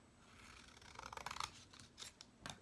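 Scissors snip through paper in a few short, crisp cuts clustered near the end, close and fairly quiet, while paper is cut for a paper sculpture.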